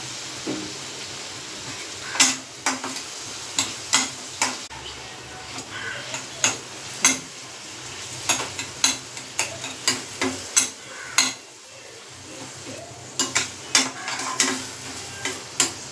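Onion and tomato masala frying in a pan, giving a low steady sizzle under repeated sharp clicks and scrapes of a spoon stirring against the metal.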